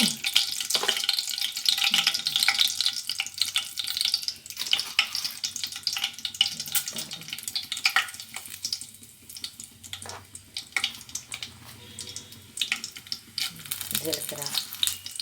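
Cumin, mustard seeds and curry leaves frying in hot oil for a vegetable curry, a loud close crackling sizzle with popping spatters that swell and ebb, no talking.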